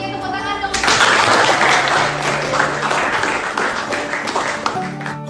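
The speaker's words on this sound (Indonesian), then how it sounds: "tepuk tangan dong" Audience applause at a school project presentation, a burst of mixed clapping starting after a brief tonal intro, with some voices and music tones underneath throughout.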